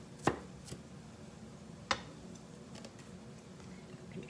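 Onions chopped with a knife on a cutting board, two sharp distinct thuds a couple of seconds apart plus a softer tap, fairly quiet with faint hiss between.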